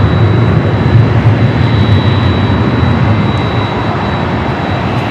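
Delta Boeing 767-300ER jet passing at LAX, a loud continuous low engine rumble with a thin steady high whine, gradually easing toward the end.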